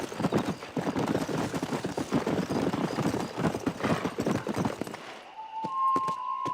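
A horse gallops in Red Dead Redemption, with rapid, loud hoofbeats pounding close by for about five seconds before they stop abruptly, followed by a few faint tonal game sounds.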